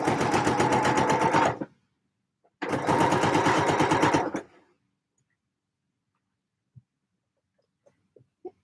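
A sewing machine runs along a garment neckline in two close, loud bursts of fast rhythmic stitching, followed by quiet with a few faint clicks.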